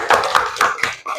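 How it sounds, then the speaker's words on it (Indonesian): Applause for a child in an Indonesian classroom setting, a short burst of a few sharp hand claps in uneven rhythm, close and fairly loud, with no talk over it. "Nah, kita beri tepuk tangan dulu untuk Albi."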